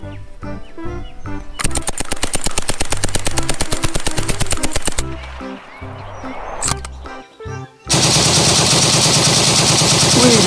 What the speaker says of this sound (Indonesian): Lihat, di sini ada tembakan MP40.